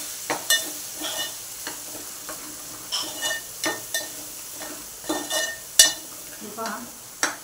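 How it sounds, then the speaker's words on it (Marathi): Turmeric, chilli powder and salt sautéed and stirred in a pan while cooking a spicy wam fish curry; repeated scraping stirs and clinks of a spoon against the pan over a low steady sizzle, up close. "हळद आणि चवीनुसार मीठ हे परतून घेऊया"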